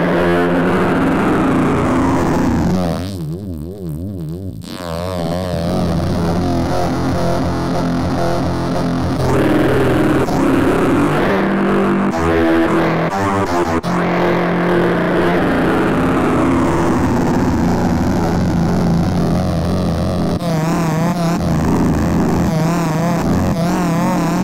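A roaring, distorted synth bass played in Reason software, growling continuously while the modulation wheel sweeps its tone, producing wobbling, shifting textures with a brief dip in level, loud and alone without talk.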